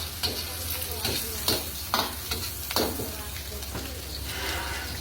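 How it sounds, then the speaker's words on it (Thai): Onions stir-frying in a hot pan for a squid curry-powder stir-fry, a steady close sizzle broken by several sharp scraping stirs of the utensil, with no talk. "ผัดหอมใหญ่สุกก่อน"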